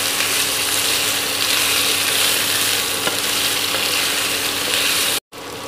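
Amla and potato are stirred into spices in a hot pan, a dense continuous scraping sizzle close up, steady until a sudden brief cut near the end.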